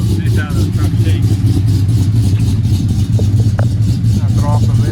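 A GMC Sierra pickup with an LSA engine runs loud and steady, a deep droning rumble filling the whole stretch with slight pulsing, while someone talks over it.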